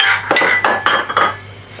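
A metal spoon stirs meat in a cooking pot over a high flame, making a quick series of five or six bright scraping clinks in a steady rhythm, loud and close, with no voices.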